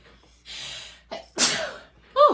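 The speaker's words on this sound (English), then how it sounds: "Uh-oh, I'm gonna sneeze." A single loud sneeze with a sharp burst, preceded by a couple of quick breathy inhales, close to the listener.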